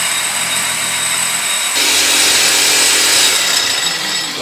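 A power saw cuts through a car's exhaust pipe while modifying a car, a loud, continuous harsh grinding rasp that grows brighter and more intense partway through, close and alone.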